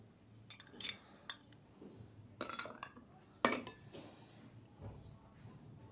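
Finely chopped green chillies go into a dish in a home kitchen, heard as soft scattered clinks and taps of a utensil against the bowl, quiet and close.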